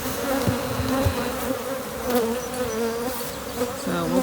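Bees swarm around an opened hive during honey extraction, a dense, continuous buzzing close to the microphone, with individual insects droning past and no talking.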